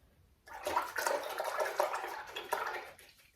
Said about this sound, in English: You're going to want to rinse out your brush.